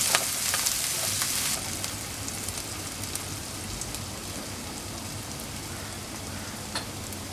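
Onion and curry leaves sautéing in hot oil in a pan, a steady close sizzle and crackle with occasional sharper pops, louder for the first moment and then settling.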